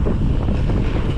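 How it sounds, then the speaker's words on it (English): Wind roars across the microphone while riding, a steady, loud buffeting rumble with no break over the short stretch. "The wind has changed direction."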